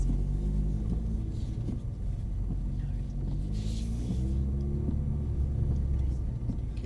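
A Mercedes-AMG A45 on a driving-tuition track, its engine droning and building under power from inside the cabin, a steady low rumble with faint voices beneath.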